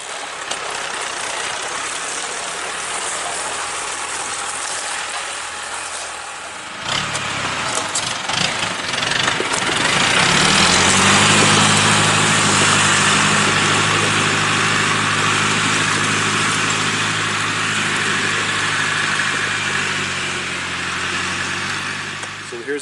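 A chainsaw engine runs steadily and loudly, revving up partway through as it trims the top off a storm-damaged maple log, with a sustained buzzing drone throughout and voices talking over it at times.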